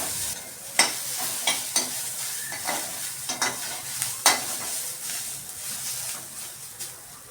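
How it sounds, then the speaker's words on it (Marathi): Chopped onion sautéing in a pan for stuffed capsicum, with a steady sizzle and scattered scraping stirs from a spatula, no voices. "आता मी चिरलेला कांदा टाकते त्यात आणि हा कांदा आहे ना फक्त असा परतून घ्यायचा आहे थोडासा"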